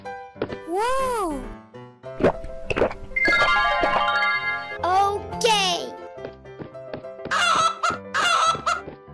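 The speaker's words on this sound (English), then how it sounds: "Chicken." Cartoon chicken clucking amid a children's animal-sounds cartoon, with sung and spoken child-like voices, jingles and bright synthesized tones mixed in among short, repeated clucking bursts.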